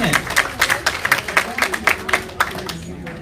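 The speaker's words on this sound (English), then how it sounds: "let's give Chad a round of applause" Scattered applause at a senior care conference: a small audience gives a rhythmic round of distinct, fairly close claps that taper off after about three seconds.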